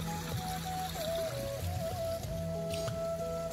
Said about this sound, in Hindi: तो ये गेहूं में जा रहा पानी।